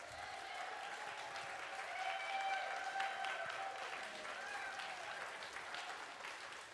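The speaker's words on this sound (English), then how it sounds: "if we can all clap and scream and carry that energy forward for Matt Davis, who was our camp director" A congregation claps and cheers for a camp director during a Sunday morning service, with dense, steady applause and a few whoops carrying through the full stretch.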